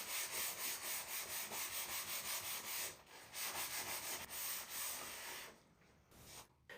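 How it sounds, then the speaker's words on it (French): Fan blades being lightly sanded by hand after cleaning, a close rhythmic rubbing with steady back-and-forth strokes that slow and break up toward the end, no voices. "Les pales sont bien nettoyées, puis légèrement poncées et dépoussiérées pour les préparer à l'étape suivante."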